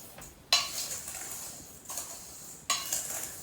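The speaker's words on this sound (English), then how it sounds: "And then mix it around into the sugar so it's indistinguishable" Spoon clinks and scrapes as pectin is stirred into sugar for rhubarb jam, a few distinct sharp metallic strikes against a bowl separated by short soft scraping stretches, close and clear.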